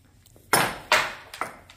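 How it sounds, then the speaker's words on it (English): A series of loud, sharp metallic bangs and clanks at irregular intervals as big equipment is moved outside a horse barn in Kentucky. "They're moving big equipment out front."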